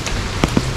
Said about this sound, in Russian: Маленький, потому что не такой сильный дождик.